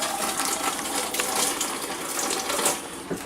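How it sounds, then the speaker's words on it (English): Tap water runs steadily into a kitchen sink as fingers are rinsed after handling avocado, a continuous close splashing hiss with small spatters and no speech. "Rinse my fingers here."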